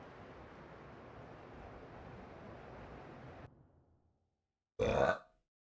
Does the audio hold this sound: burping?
yes